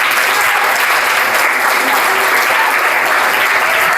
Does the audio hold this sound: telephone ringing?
no